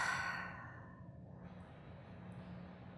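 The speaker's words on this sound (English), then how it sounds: "Exhale fully through your mouth." A deep, slow exhale through the mouth during a gentle yoga session in bed, a soft breathy rush that starts strong and fades gradually into quiet, heard alone.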